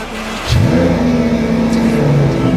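A Lamborghini engine cold-starts and revs loudly nearby, a deep growl rising briefly before settling into a rough, steady idle.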